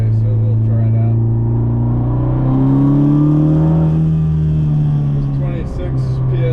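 A turbocharged 10th-gen Honda Civic Si accelerates hard in third gear at 26 psi boost, its engine drone rising steadily in pitch, loud and close, with wind and road noise around it.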